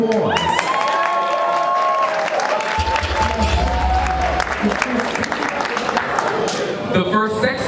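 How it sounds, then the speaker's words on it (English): Applause and cheers rise from a ballroom-scene crowd, clapping and shouts sustained throughout while a host's amplified voice carries over the noise. "Give them a round of applause."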